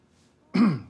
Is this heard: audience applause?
no